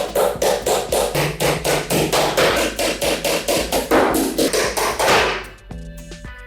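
A hammer drives anchor pins into a floor to fix a wall frame during a kitchen interior build: loud, close, evenly spaced blows, about three per second, that stop abruptly near the end.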